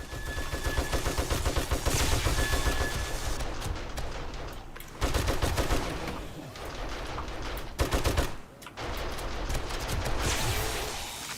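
Primary-weapon gunfire in the video game 7 Days to Die: dense, rapid, sustained shots roll on for seconds at a time, broken by a few brief pauses, loud and close with no talking.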